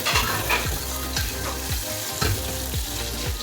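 Dal tadka spices sizzling and frying in hot oil, a loud continuous crackle with rhythmic stirring scrapes repeating roughly every half second, close up and without talk.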